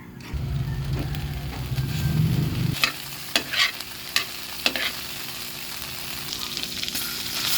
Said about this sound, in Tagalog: Saka tayo magigisa ng ating sauce. Dito na rin tayo magigisa sa ating pinaglutuang kawali.